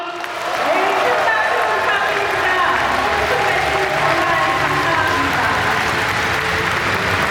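Sustained audience applause with some cheering fills a large hall at a Korean political party's national members' convention, starting abruptly and holding steady and loud throughout.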